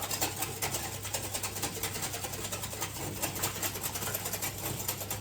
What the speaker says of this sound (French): Alors, on va mixer tout ça.